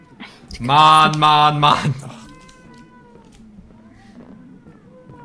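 Cats woken from sleep give a loud, drawn-out meowing cry near the microphone, followed by quieter, thinner mews, while a person speaks German over the calls.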